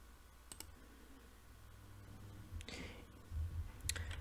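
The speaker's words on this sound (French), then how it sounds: "Je clique sur Save." A computer mouse clicks on a Save button, a few faint sharp clicks in quiet room tone with low hum.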